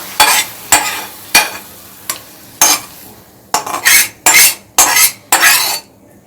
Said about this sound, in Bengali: এই মশলাটা একটা বাটিতে ঢেলে নিচ্ছি